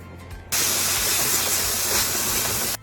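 Ground beef and half an onion browning in a hot pan, a loud steady broadband sizzle that starts abruptly after a quiet moment and runs continuously before cutting off.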